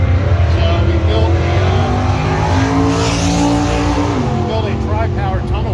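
A 1932 Oldsmobile with a big block Chevy engine launches at a dragway, its engine roaring loud and continuous with rising revs and a tire squeal while someone talks over it.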